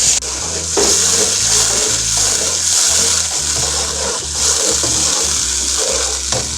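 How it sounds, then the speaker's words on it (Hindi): Water poured into a pan of browned onions on the stove, giving a loud continuous hissing sizzle with bubbling that carries on throughout, no voices. "पानी डाल के रंग निकालते हैं इसका"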